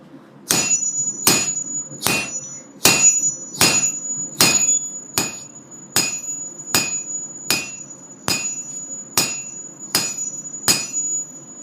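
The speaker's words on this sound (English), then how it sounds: "I really like using both sides of the dog's head hammer." A dog's head hammer strikes metal in a steady, evenly spaced rhythm, each blow ringing with a bright metallic tone, about a dozen hits in a row.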